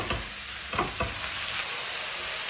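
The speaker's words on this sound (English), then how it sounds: "in go the sprouts and the leeks in some hot oil" Brussels sprouts and leeks dropped into hot oil in a pan, a close steady sizzle with a few brief stirring scrapes and knocks near the start, no voices.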